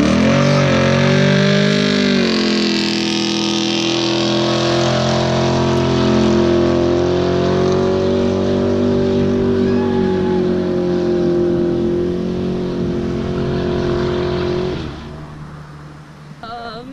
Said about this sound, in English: Mike's gonna do a big burnout